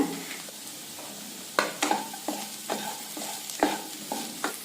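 Onion and spice mix being stirred in a frying pan while making raw banana bonda, a gentle sizzle under repeated rhythmic scraping strokes of a spoon against the pan.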